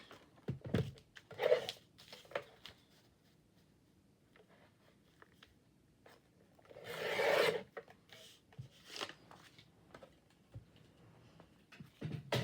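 Paper being trimmed for a Bible journaling collage, with brief raspy cutting and rubbing bursts near the start and a louder one around the middle, separated by quiet stretches with faint handling noises.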